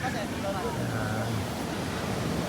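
Ocean surf at a beach washes in a constant broadband roar mixed with wind buffeting the microphone, loud and unbroken throughout.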